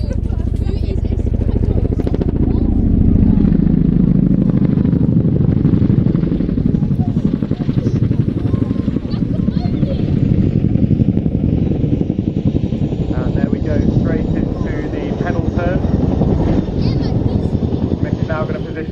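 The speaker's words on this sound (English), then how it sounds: "we've got the Chinook from Odeon right now" A Chinook helicopter flies a display at Cosford Airshow 2022, its heavy rotor thrum and engine roar loud and continuous throughout, with a commentator talking over it.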